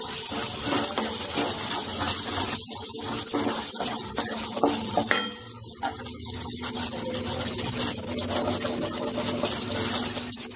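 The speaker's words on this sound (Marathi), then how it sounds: "सगळ्या भाज्या स्वच्छ पाण्यातनं धुवून घ्यायच्या" Vegetables, carrots among them, are rinsed under clean running water while cooking a mixed winter vegetable dish, giving a steady, close gushing and splashing that continues unbroken for about ten seconds, with no voices.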